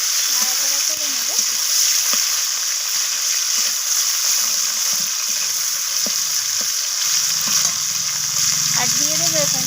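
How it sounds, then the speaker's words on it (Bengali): Tomato stirs and fries in oil with two dried red chillies and whole cumin, a continuous sizzle with scraping stirs, and a voice talks over it at moments. "টমেটোটাকে একটু নাড়াচাড়া করে নেব"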